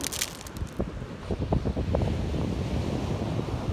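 Strong sea waves surging and breaking at Thorupstrand beach in Denmark, a loud continuous wash of surf close by, mixed with gusts of wind buffeting the microphone.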